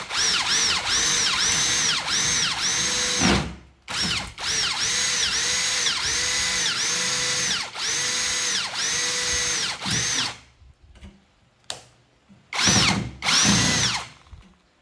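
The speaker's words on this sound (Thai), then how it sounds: "ผมจะเจาะแบบใช้นะครับ เรียกว่า หัวสกรูปลายสว่านไปเลยทีเดียวนะ" A cordless drill whirs in repeated bursts as it drives self-drilling screws, each run winding up then stopping, with short pauses and brief clicks between.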